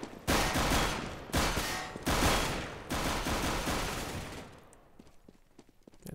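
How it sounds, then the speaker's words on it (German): Gunfire rings out in Counter-Strike: Global Offensive during a DreamHack Valencia 2015 esports match on de_overpass, with four loud bursts of rapid shots in quick succession that fade into quieter clicks and footsteps at the end. "Pasch hat nochmal jemand angeschossen"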